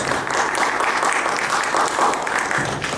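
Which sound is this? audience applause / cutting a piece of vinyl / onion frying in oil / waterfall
audience applause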